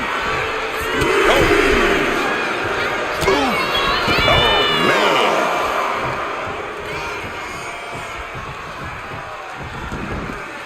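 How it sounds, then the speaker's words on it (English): A virtual arena crowd in the WWE 2K26 wrestling game cheers and shouts in swelling waves, loud at first and then easing to a steady roar, with a commentator talking over it. "CM Punk playing to the crowd now."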